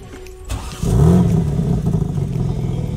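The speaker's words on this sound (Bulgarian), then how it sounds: "Автомобилът в момента е запален." A car engine idling and briefly revving while parked, a steady mid-range hum that swells after a short start and then holds at a loud, even level with no one speaking.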